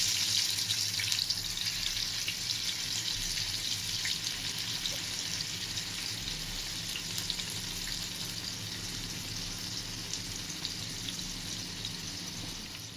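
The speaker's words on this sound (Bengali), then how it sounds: "এরপর চিংড়ি মাছটা ভেজে নেবেন এরকম করে" Shrimp frying in oil in a pan, a steady close hiss and crackle that continues evenly throughout with no talking.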